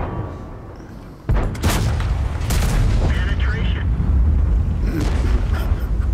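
Tank cannon shots strike armour in a World War II tank battle game, with a Tiger tank named. Heavy booming impacts and rumbling blasts land in quick succession over a constant roar of battle.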